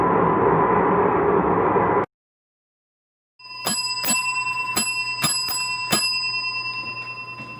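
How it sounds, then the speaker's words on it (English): A bell rings in a quick series of bright, metallic strikes, five or six of them, with a long ringing tail, after a burst of noise and a short silence. "Ring the damn bell."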